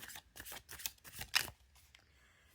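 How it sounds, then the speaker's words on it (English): Tarot cards being shuffled by hand, a run of quick papery riffles and soft slaps at close range, fading to quiet near the end. "if I put this on the camera so you can see me doing every single shuffle"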